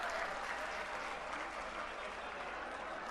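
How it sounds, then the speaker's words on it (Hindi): Dense, steady clapping from a political rally crowd welcoming Arvind Kejriwal, loud and continuous throughout with no break. "जोरदार तालियों से स्वागत किया अरविंद जी का"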